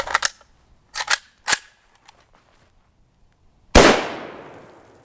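An M85 PAP rifle fires Prvi Partizan M193 55-grain 5.56mm rounds outdoors in cold weather. Several sharp cracks come in quick bursts, then one louder, closer shot with a trailing decay.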